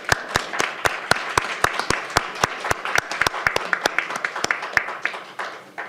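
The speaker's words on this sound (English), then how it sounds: "Please help me join in a round of applause." A small group at a county council meeting gives a round of applause: sharp, distinct, close-up claps at an uneven pace that thin out toward the end.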